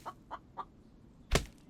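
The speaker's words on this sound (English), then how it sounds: "Hear the chicken." A chicken in the video game The Infected clucks three short times in quick succession, followed by a louder, sharper sound near the end, all fairly close and with no talk over it.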